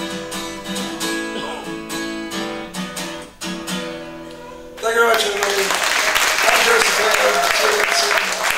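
Audience applause at an outdoor folk festival on a farm in Anglesey, Wales, breaking out loud and dense after guitar music ends and continuing steadily.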